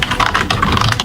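Rapid, continuous typing on a cheap wired $10 computer keyboard, close up and alone, with a steady clatter of key presses and no voices.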